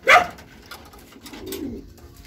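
Pigeons at a racing pigeon loft in Gumaca, Quezon give a short burst of calls followed by a soft, low coo, close by and alone.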